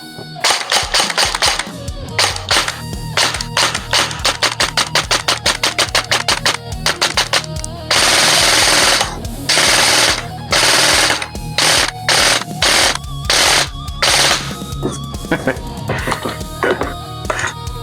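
An SRC M4A1 airsoft rifle fed from an SLR magazine fires loud, close full-auto bursts, rapid clattering strings broken by short pauses, with a few brief single shots toward the end.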